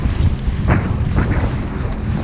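Strong wind on open water buffeting the microphone in heavy, low rumbling gusts, with splashing water and choppy waves beneath.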